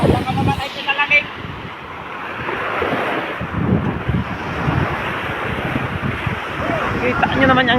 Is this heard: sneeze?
no